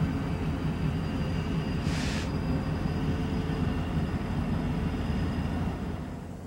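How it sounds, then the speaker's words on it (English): A train rolling past a railroad crossing beside a canal park, a steady low rumble of wheels and engine close by that eases off slightly at the end. "Another train."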